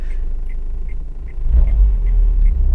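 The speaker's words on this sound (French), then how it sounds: "on va attendre qu'il passe avec sa Clio GT là" A Renault Clio GT car passes nearby, a low engine rumble swelling in the second half and staying heavy as it goes by, with no talk.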